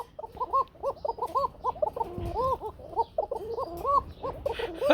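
A red Kuka pigeon cooing up close at a pigeon farm, in a string of repeated rolling, warbling coos with short pauses between them, loud and clear against a quiet background.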